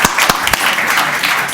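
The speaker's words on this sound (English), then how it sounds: "Round of applause." Loud, close applause from the room at a city economic development committee meeting, a brisk burst of many hands clapping with a few sharper claps standing out at the start.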